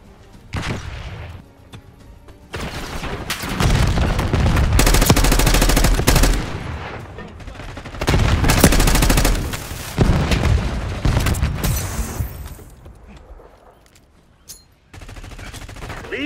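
Dense automatic and single gunfire from Call of Duty Black Ops 6 during a deathmatch, loud sustained bursts with booming impacts, swelling and easing in waves before a brief lull.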